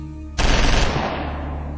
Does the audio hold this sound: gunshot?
yes